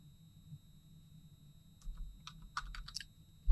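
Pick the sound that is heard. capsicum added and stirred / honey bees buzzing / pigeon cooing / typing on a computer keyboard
typing on a computer keyboard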